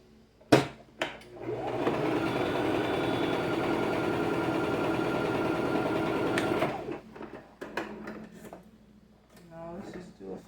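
A Brother LX3817 sewing machine stitches spandex fabric in a steady whirring run of about five seconds, framed by clicks and handling knocks before and after.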